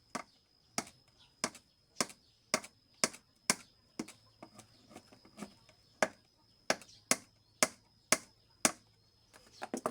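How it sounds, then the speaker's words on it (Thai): A hammer drives a steel spike tightly into wood while a phin, a Thai lute, is being built. About twenty sharp, close strikes land in a steady, fairly even rhythm with no talk. "ตอกซีแน่นๆเลยทุกคนเด้อ"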